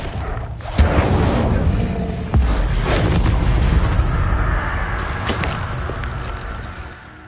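Fire spell Incendio cast repeatedly in Hogwarts Legacy, a loud continuous roaring, crackling rush of flame with heavy booming bursts near the start and middle, sustained and close, then tapering off at the end.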